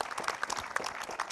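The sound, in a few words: studio audience applause for TV show guests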